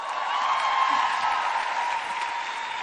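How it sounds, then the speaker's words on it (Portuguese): An audience applauds steadily to welcome a woman preacher for an afternoon talk, a dense, sustained clapping that fills the whole stretch at fairly even loudness with no voices over it. "recebo com uma salva de palmas também a preletora desta tarde"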